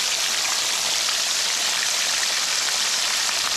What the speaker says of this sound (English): So guys, we're frying some Gilbaka here.